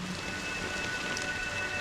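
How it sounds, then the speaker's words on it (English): Steady rain falls in Honkai: Star Rail, a soft, continuous patter and hiss with no pauses. "But it's still raining"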